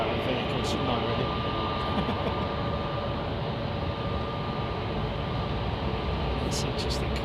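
An Emirates Airbus A380 airliner departing London Heathrow fills the air with a constant, broad, loud jet roar that holds steady without a break.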